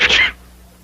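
A single loud, sharp sneeze close by, a burst of roughly a third of a second that cuts off into near silence.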